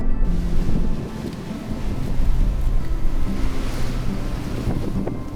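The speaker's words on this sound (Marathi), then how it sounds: "अशा मोकळ्या जागेवर भन्नाट वारा अनुभवणं ही कमाल गोष्ट आहे." Strong, gusting wind on an open hilltop fort summit roars and buffets the microphone in a constant, loud rush, with no voices.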